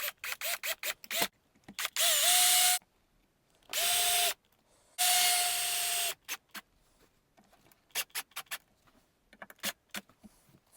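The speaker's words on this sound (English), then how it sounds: "I'm going to put on black screws here" Power drill driving black mounting screws into a guitar body: three sustained whirring runs between bursts of sharp clicks and taps, close and loud with no talking.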